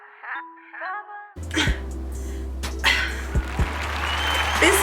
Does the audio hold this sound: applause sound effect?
yes